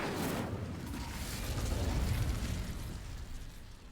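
Spell effects from the video game Hogwarts Legacy, a disarming Expelliarmus and a fiery Incendio, come through as dense, sustained rumbling bursts. The blasts swell through the middle and fade, loud and continuous with no talking.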